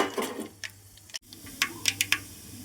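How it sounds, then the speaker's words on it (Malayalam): Mustard seeds crackle in heated oil for a pickle, a handful of sharp, separate pops arriving irregularly near the end over a low, steady background hiss. "കടുക് പൊട്ടട്ടെ"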